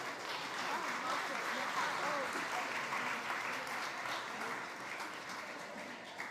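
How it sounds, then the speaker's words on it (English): A large crowd claps steadily, broad dense applause that holds evenly for several seconds before easing off slightly, with faint voices mixed in. "Give them a round of applause, please."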